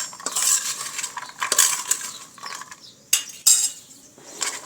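Tomato, salt, red chili and turmeric are mixed with onion in a pan for a village-style vegetable dish: close, uneven bursts of metal spoon scraping and clinking against the pan over a light sizzle.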